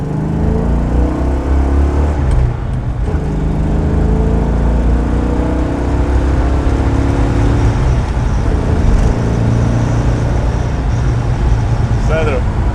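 American Dodge Charger with a 7.2-litre engine accelerating: a loud, continuous close-up engine roar with deep rumble and rising pitch sweeps, steady throughout, with a voice mixed in.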